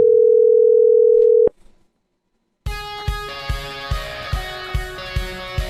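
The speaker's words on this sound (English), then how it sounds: "Dialing these numbers into the emulator and calling the number for the first time yielded this audio." A steady telephone dial tone hums for about a second and a half after a number is dialed on a phone emulator, then cuts off into silence before a loud musical jingle with rhythmic beats starts.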